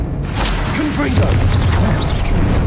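A Confringo fire spell blast in Hogwarts Legacy booms loudly and steadily, with a dense, rumbling low end and crackling fire. Faint voiced shouts sit in the mix.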